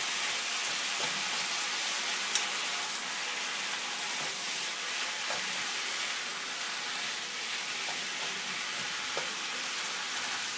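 Ground turkey browning in a hot pan with Worcestershire sauce, giving a steady, close frying sizzle with a bright hiss and faint scraping stirs throughout, and no voices.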